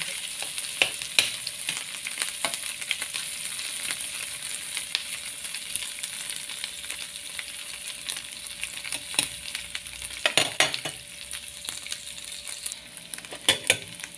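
Fish sizzling and frying in a hot pan, a steady bright crackle throughout with occasional louder spatters and stirring scrapes, close up and with no talk.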